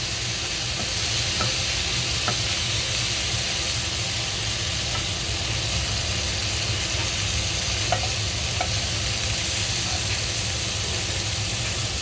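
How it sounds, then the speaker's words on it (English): Meatballs sizzle while grilling in a little oil in a pan, a steady loud frying hiss running throughout with occasional faint stirring clicks, no one talking. "What you can do is just add a little bit of oil and start grilling it all different sides."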